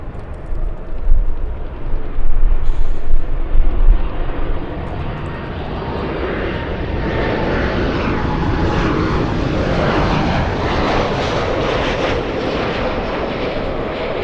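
An airplane takes off from runway 24 left at LAX, Los Angeles International Airport, its engine roar loud and sustained, swelling broad and steady throughout with no voices over it.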